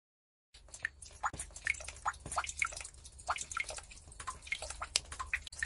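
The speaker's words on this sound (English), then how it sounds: "He heard the drip of the rain." Rain dripping in an irregular patter of small, distinct drops, close and clear, continuing steadily with no other sounds alongside.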